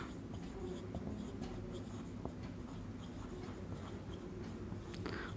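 A pen scratches out coordinates on paper or a board during a maths lesson, a faint continuous scraping with soft taps, close but quiet over low room hum.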